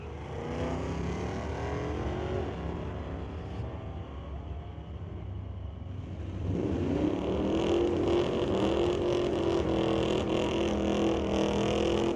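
A drag race between a GMC AT4 with a 3-liter diesel and a 1966 Ford Mustang at an NHRA event: a sustained engine drone that rises as the vehicles accelerate, louder and rougher in the second half, with no talk.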